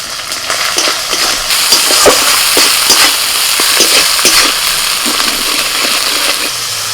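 Spice paste of ginger, turmeric, dry red chilli, cumin paste and salt frying in a pan, a loud continuous sizzle broken by sharp scraping stirs and crackles of the spatula.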